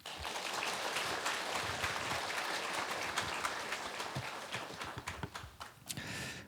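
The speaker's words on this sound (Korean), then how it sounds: "뜨거운 박수로 모시겠습니다" A church congregation claps warmly to welcome a pastor to the pulpit, a dense, steady round of applause filling the room before tapering and giving way to a brief final burst.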